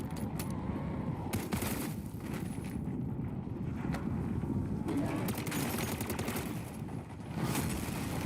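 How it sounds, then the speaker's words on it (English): Continuous rattling gunfire in Call of Duty MW3 Zombies, dense and sustained automatic shooting layered over a busy game soundscape for the whole stretch, fairly loud and without pause. "run out again and keep shooting"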